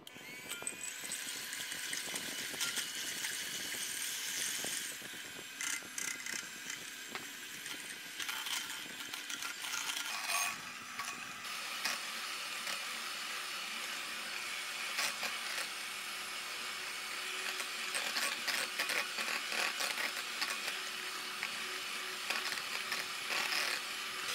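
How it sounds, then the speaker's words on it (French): Two whole eggs are whisked with 120 g of sugar for an apple tart's butter cream, a continuous close rattling and clicking of the whisk against the bowl that carries on steadily throughout. "je vais fouetter 2 œufs entiers avec 120 g de sucre"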